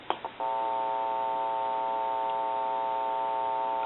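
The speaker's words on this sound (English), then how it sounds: "When I press the button, I can give dial tone or take it away at any time." Two faint clicks, then a steady dial tone on a Kellogg Red Bar rotary dial wall telephone begins and holds continuously, clear and even with no breaks.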